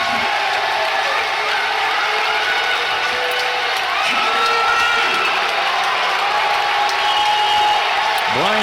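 A strongman crowd at the 2023 Shaw Classic roars, cheers and claps for a 1,050-pound deadlift, a continuous swell of loud noise from the stands with a commentator talking over it.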